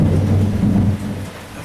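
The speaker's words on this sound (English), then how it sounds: "With the thunder, the lightning." Low rumbling thunder rolls through a rainy day, a steady deep grumble that fades slightly toward the end, with no voices.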